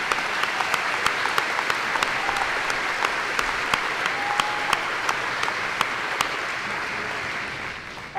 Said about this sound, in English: Let's give a warm round of applause for all of the seniors and their accomplishments.